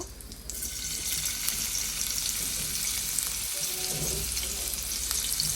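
Onions fry in a pan for chicken noodles, a constant bright hiss and crackle of hot oil with occasional stirring scrapes, close and steady, no talk.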